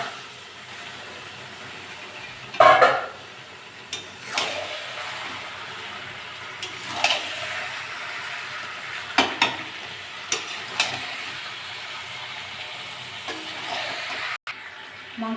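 Chicken and potatoes fry in spiced masala oil in a pan, a steady sizzle punctuated by repeated louder bursts of scraping and stirring, one especially strong at the start, with no talking.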